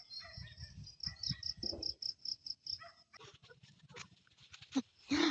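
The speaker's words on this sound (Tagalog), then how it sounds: "pakinggan nyo muna yung mga ibon" A quick series of high, repeated chirps sounds faintly outdoors, followed by scattered softer calls and rustling.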